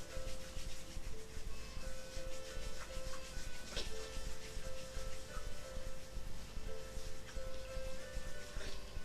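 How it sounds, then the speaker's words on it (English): Hands rubbing together during a gentle group exercise class, producing a steady, continuous dry swishing friction sound, fairly close and even throughout. "Rub the hands together and polishing the face."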